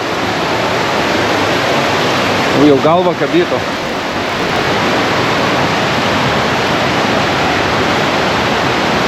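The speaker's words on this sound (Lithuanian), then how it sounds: "Vanduo krenta." Water rushing and falling through the narrow Partnach gorge, a dense continuous roar filling the whole stretch, with a person speaking briefly over it early on.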